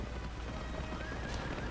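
Horses neighing and clip-clopping in the real-time strategy game The Lord of the Rings: The Battle for Middle-earth II, a steady game soundscape with hoofbeats and whinnies under constant background noise.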